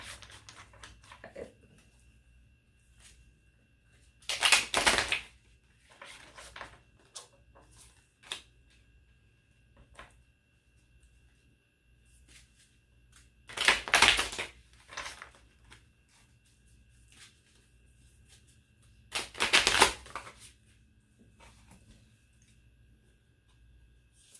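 A deck of tarot cards being shuffled by hand, three loud riffling bursts spaced several seconds apart with quieter handling noises between them, close and with no talking.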